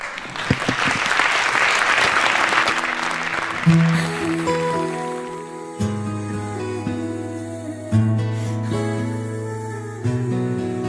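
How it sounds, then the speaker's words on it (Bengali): An audience claps loudly at a sports awards ceremony, with dense applause filling the first few seconds before music with sustained tones takes over and the clapping fades beneath it. "জোরে একটা করতালি এমার জন্য"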